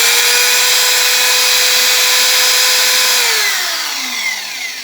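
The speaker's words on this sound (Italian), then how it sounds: "Il massimo di giri di questo trapano è 3500, non è super potente" A compact electric drill, topping out at 3500 rpm and mounted in a lathe tool sharpener, runs steadily with a loud high whine, then spins down near the end as its pitch slides lower and the sound fades slightly.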